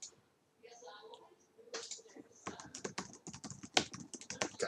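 Rapid clicks of fingers typing on a computer keyboard during a frustrating login attempt, coming in irregular bursts after a quiet start, with muttering under the clatter.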